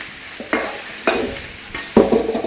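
Chow mein noodles sizzle and char in a hot wok, with three bursts of stirring and tossing at roughly half-second intervals over a steady frying hiss, close and fairly loud.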